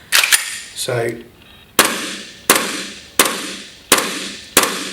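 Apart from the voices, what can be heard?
Umarex VP9 gas blowback pistol being shot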